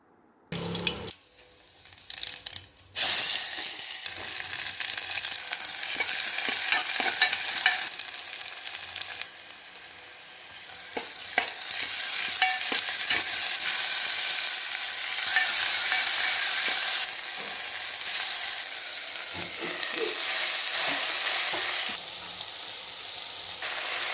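A tempering of onion, tomato and green chilli frying in oil, a continuous bright sizzle with occasional stirring clatter, steady and close for most of the stretch, without voices.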